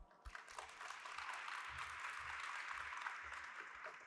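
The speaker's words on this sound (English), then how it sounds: "Let's give him a round of applause" Sustained audience applause at a Python programming talk, steady and dense from a room full of people, with no voices over it.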